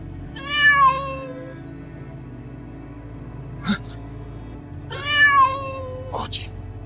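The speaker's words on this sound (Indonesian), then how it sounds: "Kucing." A cat meows twice, each a short, fairly loud call several seconds apart, over a low steady hum with a couple of faint clicks in between.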